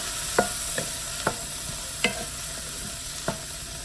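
Onion and garlic fry in a pan on an electric stove under a steady soft sizzle, broken by five or six sharp clicks and scrapes of a utensil stirring, fairly close.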